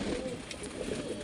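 Domestic pigeons kept at home coo nearby, a brief soft low burbling murmur.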